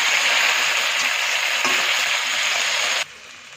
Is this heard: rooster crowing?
no